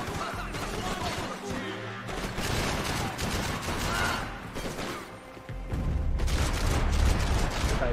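Heavy gunfire from a big gun in Max Payne 3, loud sustained bursts and rattling volleys across the whole stretch with a deeper, denser barrage near the end.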